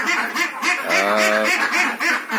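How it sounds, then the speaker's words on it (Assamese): A flock of ducks quacks close up in quick, repeated bursts, with one longer, honking call standing out in the middle. "আৰু এইকেইটা মোৰ হাঁহ হয়।"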